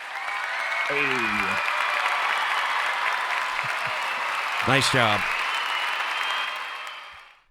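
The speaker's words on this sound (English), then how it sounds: "we get to get him the applause button" Applause sound effect triggered from a button during a live stream, a steady canned crowd clapping that runs for several seconds while someone briefly speaks over it twice, then cuts off abruptly.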